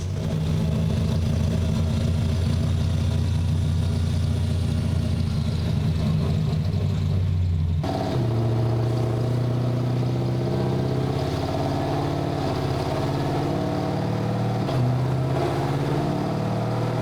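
A race car engine runs on a dyno, a loud, close, rumbling drone that holds steady, then shifts abruptly to a different, steadier tone partway through and keeps running with no talk.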